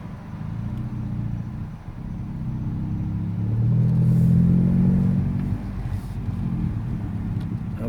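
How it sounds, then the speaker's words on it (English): Low exhaust rumble from a VW GTI MkV rolling slowly through a parking lot at night, a steady drone that swells briefly as the engine is given a little throttle, heard from inside the car. "you can hear my exhaust"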